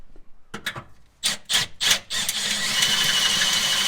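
Drilling through metal on a Mazda Miata, with a few sharp bursts of bit grinding followed by a steady, close, high-pitched whine as the drill bores a large hole.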